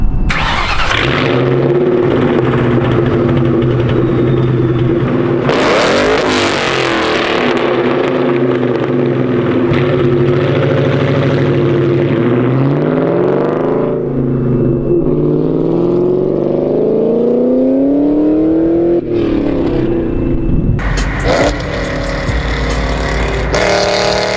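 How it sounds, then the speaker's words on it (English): A 400hp Ford Mustang GT V8 with Borla ATAK exhaust starts and idles with a deep burbling note, then revs loudly several times, rising and falling close by. "Borla attacks sound so good. I'll throw up a few exhaust clips right here."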